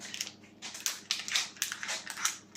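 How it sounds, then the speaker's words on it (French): Plastic wrapping pulled quickly off a Diamond Art Club diamond painting kit, heard as close, bursty crinkles and crackles in quick irregular bursts, fairly quiet and with no talk. "Je vais juste enlever le plastique le plus rapidement possible"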